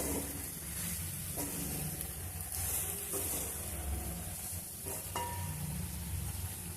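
Masala powder frying in oil for a ridge gourd masala curry, giving a continuous soft sizzle with occasional stirring scrapes and clinks throughout, steady and close, with no voices.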